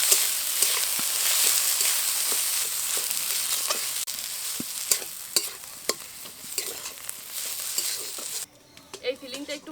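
Boiled, spice-coated potato and carrot filling with chopped coriander being stir-fried in a wok for kachori, loud continuous sizzling with repeated scraping strokes of a spatula, quieting near the end.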